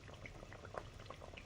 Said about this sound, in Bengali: ঝোল ফুটে গেছে।